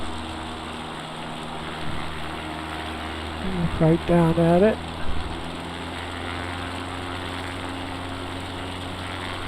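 An X Cub light aircraft's engine drones steadily in flight, a constant close cabin roar throughout, with people briefly talking over it in the middle.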